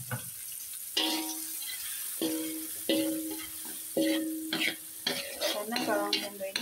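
Onions frying in hot oil in a wok, a crackling sizzle with stirring and clanking of utensil against the pan, heard close with short tonal scrapes and knocks recurring every second or so.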